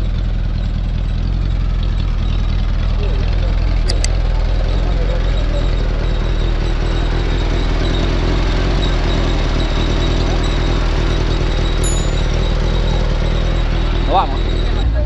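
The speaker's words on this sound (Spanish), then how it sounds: "Encendieron los motores. Y ahora sí, a darle con todo." Motorized rail cart (truque) engines running in Alto Tambo, a loud, steady low rumble and drone that holds unbroken throughout, close by, with faint higher ticks now and then.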